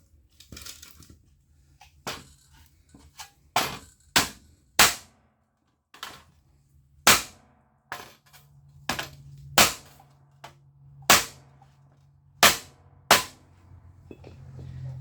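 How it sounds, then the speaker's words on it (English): A hammer strikes the metal faceplate of an old Airco welder under repair, about a dozen loud, sharp clanging blows at uneven intervals, separated by quiet gaps and a faint low hum. "now I got to hammer on this faceplate."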